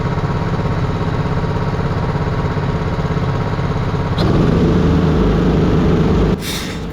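A racing kart engine at the grid start runs steadily at low revs, a loud buzzy drone that swells and roughens partway through, then drops off at the end, with no voices.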